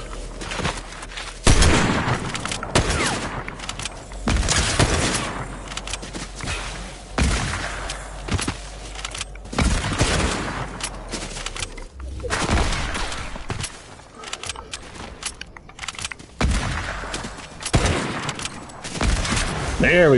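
Gunfire rings out in a Fortnite Zero Build match, with repeated sharp shots and rapid bursts scattered across twenty seconds. A voice talks intermittently between and over the shooting.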